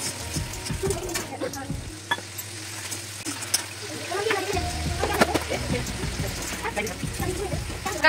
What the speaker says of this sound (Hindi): फटाफट से इसमें तड़का लगाते हैं